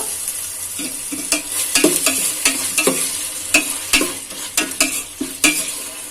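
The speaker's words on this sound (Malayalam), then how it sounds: "ഇനി നമുക്ക് ഇതിലോട്ട് തക്കാളി ചേർത്ത് കൊടുക്കാം. നന്നായിട്ടൊന്ന് ഇളക്കുക." Tomato being stirred into fried onions in a pan, with repeated close scraping stirs over a steady sizzle, the strokes coming in an uneven rhythm.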